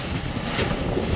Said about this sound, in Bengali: প্রচুর ঝড় দিচ্ছে, বন্ধ করে দিই বৃষ্টি, হাওয়া বৃষ্টির চাপটা আসবে